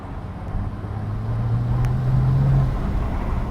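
A Mercedes SL65 AMG Black Series engine pulls in third gear from low revs, its steady droning tone rising slowly under wind and road noise, close and fairly loud.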